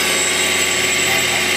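A Citizen L16 CNC Swiss lathe runs with a steady, dense mechanical hum and whine, close and constant, under faint talk.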